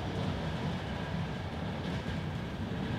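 Steady low rumble of a passenger train carriage in motion at four in the morning, a continuous loud drone with faint rhythmic rail noise and no talking.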